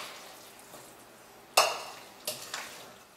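Asparagus and garden vegetables for a summer lasagna get tossed and mixed in a pan, giving a faint background sizzle broken by two or three sharp scraping stirs, with no talk.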